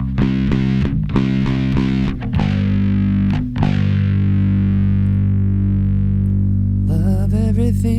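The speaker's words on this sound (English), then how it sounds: "Just put a little B3K on there. Overdrive by Darkglass." A guitar driven through a Darkglass B3K overdrive pedal, loud gritty chords struck in a quick rhythm, then a heavy distorted chord left ringing and decaying, close and dominant.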